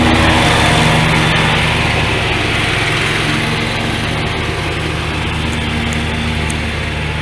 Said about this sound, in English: They're mowing me a spot.